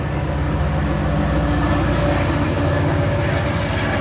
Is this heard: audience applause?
no